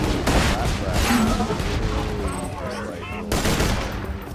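Loud bursts of rapid gunfire and an explosion, as from a grenade, crackle close up in the co-op shooter game Borderlands 2, with a player talking over the din.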